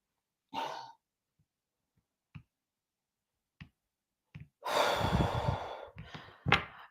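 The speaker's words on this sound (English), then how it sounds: "Can't get rid of this cough, this irritant in my throat." A person with a throat irritation gives a few soft isolated throat-clearing sounds and short breaths spaced across the quiet, then a louder harsh cough burst followed by two more short clears, all close and with no talk.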